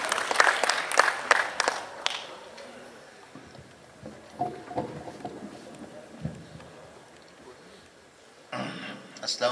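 Applause from the audience at an All India Mushaira poetry gathering in Nizamabad, Telangana, bursts out loud at the start, then fades into murmurs and scattered claps, and swells again briefly near the end.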